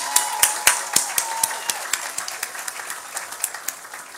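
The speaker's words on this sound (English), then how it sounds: "can I please get a round of applause for all the family members who are here with us today?" Scattered applause from a crowd at a college commencement ceremony, individual claps standing out at first and then settling into a steady, moderate patter that gradually thins.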